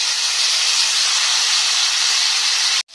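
Potatoes, eggplant and cauliflower hit a hot pan with chili, bay leaf and cumin, giving a loud, steady, dense sizzling hiss that cuts off abruptly at the end.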